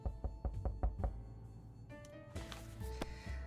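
Knocking in 60 Seconds! Reatomized: a rapid run of about six distinct, fairly close knocks in the first second, followed by quieter tonal game sounds, with no voices.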